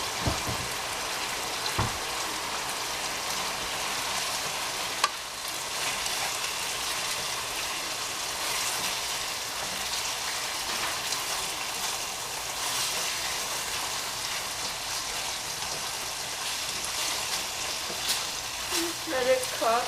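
Chicken frying with steak seasoning and a drying sauce, a dense continuous sizzle and crackle like rain, steady and fairly loud, with almost no talk.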